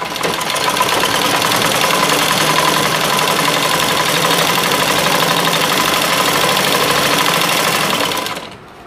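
A sewing machine runs steadily and close for about eight seconds while stitching elastic into a waistband, its fast rhythmic mechanical chatter unbroken until it stops abruptly at the end.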